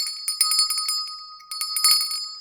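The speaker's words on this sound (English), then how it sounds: "Here's the bell." A small bell is rung in quick bursts of bright, high, ringing strikes with a short gap between flurries, close and alone.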